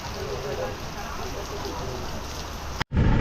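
Heavy rain pours steadily at Suryalanka beach, a dense, loud hiss of drops drumming on surfaces heard from under a small shed, ending abruptly in a brief cutoff near the end.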